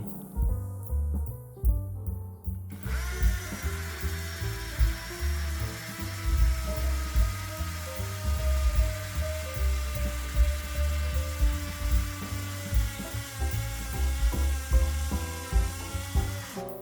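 A steady mechanical whine from an OSUKA cordless impact drill with a 10 mm masonry bit runs almost continuously, rising abruptly after a quiet opening and holding loud and close with rhythmic low thumping beneath.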